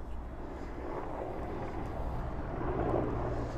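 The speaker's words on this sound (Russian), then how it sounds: "Вертолет летит." A helicopter flies over a rooftop in the Primorsky district of St. Petersburg, a distant steady low engine drone that swells slightly toward the end, with no speech.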